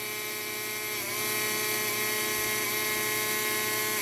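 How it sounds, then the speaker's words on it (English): A Dremel rotary tool works on a Cutco serrated knife, giving a steady high-pitched buzzing whine that holds nearly constant throughout, close and alone. "we're going to take the Dremel tool"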